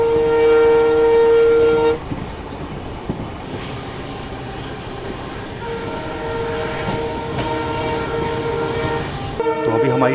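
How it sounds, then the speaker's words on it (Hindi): Train arriving at Balotra railway station on the Barmer–Yesvantpur AC Express: a long, loud horn blast up close, then steady rolling rumble and clatter of the cars, and a second horn at the end. "तो अभी हमारी ट्रेन बालोतरा रेलवे स्टेशन पहुंच रही है।"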